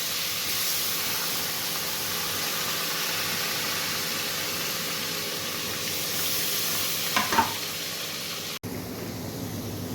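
Onions, squeezed of water, frying in butter for pav bhaji, giving a steady hissing sizzle close by, with a brief clatter of stirring near the end before the sound cuts off abruptly; no one speaks.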